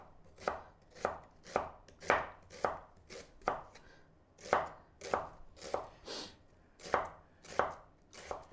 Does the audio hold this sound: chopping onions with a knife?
yes